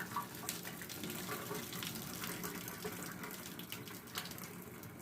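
Hot water from a pot of cooked rotini pasta pours out in a steady, continuous splashing gush, close by and fairly soft, with no voices.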